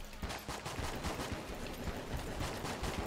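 Rapid continuous gunfire from the top-down bullet-hell game Enter the Gungeon, a dense, loud stream of shots and impacts with no pauses.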